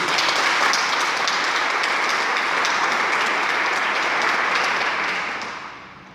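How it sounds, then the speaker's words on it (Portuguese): A church congregation applauds during a sermon, a dense, loud wash of clapping sustained evenly for about five seconds before fading away. "Então dá uma salva de palmas para Jesus"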